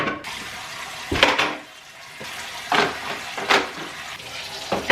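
Water running from a kitchen tap while dishes, bowls and pans are washed in a sink, coming in irregular splashing bursts with brief quieter gaps, close and moderately loud.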